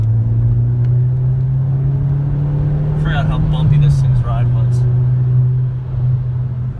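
Inside a Subaru WRX with a manual stick shift, a steady low engine drone runs throughout, its pitch dipping briefly near the middle as if through a gear change, while a voice speaks over it.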